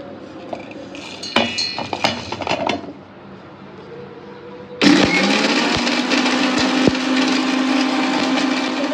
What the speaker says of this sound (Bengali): এবার মিক্সিতে গুঁড়ো করে নেব